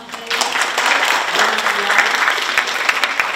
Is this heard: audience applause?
yes